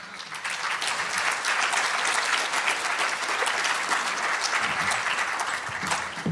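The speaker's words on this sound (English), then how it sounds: "If you guys could just clap for them for like 10 seconds, that would be awesome." Steady, dense audience applause after a talk at the R Finance 2017 conference, sustained evenly for several seconds with no voices over it.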